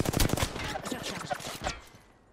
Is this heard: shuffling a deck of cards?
no